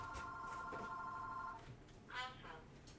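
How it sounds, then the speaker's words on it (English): A telephone rings in a vacuum repair shop, one long electronic ring tone lasting over a second, fairly faint under room noise, followed by brief talking nearby. "Let me grab this phone."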